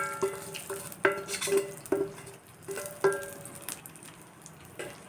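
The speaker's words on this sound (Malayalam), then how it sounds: "താളിച്ച് വെച്ചത് ചേർക്കാം" Hot tempering poured into fresh coriander chutney, with clinks of a utensil against a bowl and bursts of sizzle and stirring, several sharp metallic taps spaced through, a brief word spoken.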